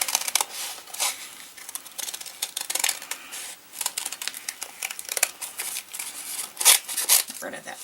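Scissors snip through a stack of folded paper sheets cut together, giving short crisp clips in an irregular rhythm with a voice talking over much of it.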